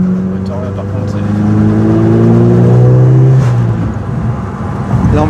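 A Volkswagen Golf GTI engine drones and rises in pitch as it revs, steady harmonic tones climbing then easing off, heard from close inside with some speech over it.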